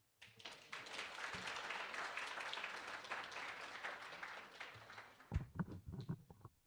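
An audience at a university tax clinic launch applauds with steady, dense clapping that runs several seconds, then thins out into a few scattered claps near the end.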